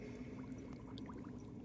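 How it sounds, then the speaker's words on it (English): Glue poured from a bottle into a big bowl of solution, a faint continuous thick pour with soft gurgling over low background hum, with no speech. "So here, Igor, I want you to pour all the glue into the solution."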